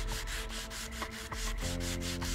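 Repetitive abrasive rubbing of old-school sandpaper on a surface in the video game Train Station Renovation, steady strokes over a constant hum, close and moderately loud, with no talk.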